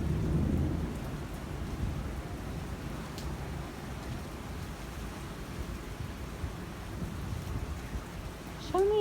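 Thunder rumbles low and long under steady rain during a lightning storm in Sedona, a deep continuous roar that swells at the start and the end.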